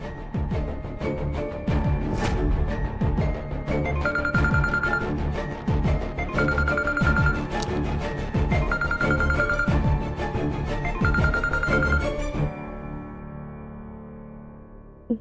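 A telephone rings in repeated short bursts, steady and fairly loud, layered over a continuous background music bed in a domestic drama scene, then everything cuts off near the end.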